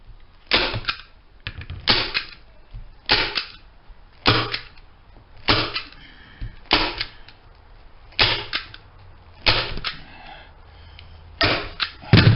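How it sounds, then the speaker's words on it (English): A staple gun fires repeatedly while securing material on a pontoon boat under rebuild, sharp loud snapping clacks arriving roughly every second, some in quick doubles, with quiet handling noise between shots. "I like to staple it really good if it's where I want it. Make sure my staples are set."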